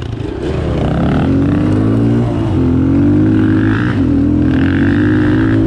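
A dirt bike engine roars loud and steady at close range on an off-road ORV trail in Northern Michigan, with pitch shifts as it revs and climbs through the gears.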